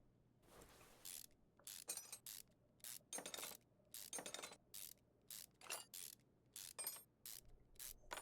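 Bolts being tightened on an ABS pump and module under the hood in Car Mechanic Simulator 2021, heard as a series of about a dozen short, crisp ratcheting bursts in an irregular rhythm, close and moderately loud with no talk.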